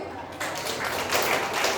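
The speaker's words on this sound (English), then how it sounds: "clap for them." A school audience at Doon Valley High School claps for Raman House, first-place winner of a storytelling competition, a dense wash of applause that swells and carries on with a voice speaking over it.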